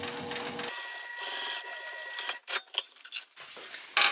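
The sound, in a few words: sewing machine top stitching fabric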